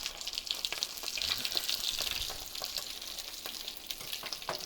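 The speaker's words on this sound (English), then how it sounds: "we're gonna just slide it in the oil just like that." A breaded potato kebab patty, dipped in egg, sizzles and crackles steadily in hot frying oil, a loud continuous fry close by with no talking.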